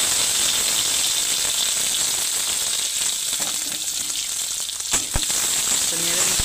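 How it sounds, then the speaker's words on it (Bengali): Onions and dried red chillies frying in hot oil in a pan, a dense continuous close sizzle with occasional rattling stirs toward the end. "চলো পেঁয়াজগুলো ভাজা হোক।"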